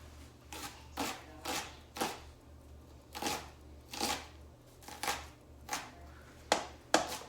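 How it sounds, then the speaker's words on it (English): A sharp knife finely chopping shallots on a board, about a dozen quick crisp strokes in an irregular rhythm, close and fairly quiet, with no voices. "We're just chopping it up"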